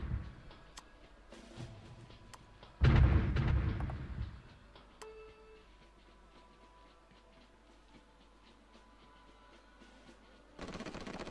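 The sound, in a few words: artillery firing in the video game Supreme Ruler Ultimate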